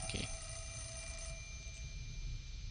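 An old telephone rings in the haunted island setting of Fatal Frame: Mask of the Lunar Eclipse, a sustained electronic bell tone held over a dark, rumbling ambient drone.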